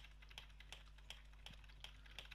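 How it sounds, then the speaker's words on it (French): Computer keyboard keys click at a steady, regular rhythm, faint and close, about six keystrokes over a low constant hum. "On entend bien le clavier"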